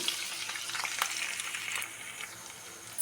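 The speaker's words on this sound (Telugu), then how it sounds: "ఆయిల్ బాగా హీట్ అయ్యాక ఆనియన్స్ వేసేసుకోవాలి" Onions sizzle and fry in hot oil for a chicken and ridge gourd curry, a steady close crackling hiss with occasional stirring sounds.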